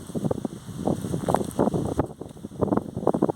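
Gusty wind buffets the microphone in uneven rumbling bursts, loud and close, with no voices, at a school apiary on a sunny day.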